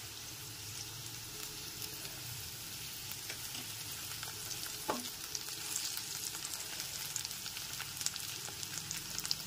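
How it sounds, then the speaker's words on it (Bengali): Chopped onions and green chili fry in a pan, lightly cooked for an egg paratha filling, giving a continuous close sizzle with faint stirring scrapes and small pops throughout. "পেঁয়াজ কুচিগুলো কিন্তু একটু হালকা করেই ভেজে নেব, বেশি লাল করে ভাজবো না।"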